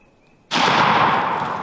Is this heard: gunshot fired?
yes